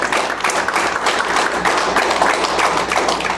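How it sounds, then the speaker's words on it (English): A church congregation claps hands in praise during a worship service, a loud, dense, continuous burst of many overlapping claps sustained for a few seconds with no talking. "Give him a hand clap and praise."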